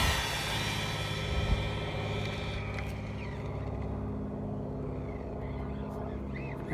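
A Kyosho Fazer MK2 brushless RC car running on 2S at full throttle over rocky ground, a loud high-pitched motor whine that stays strong and close, then fades slightly as the car drives away.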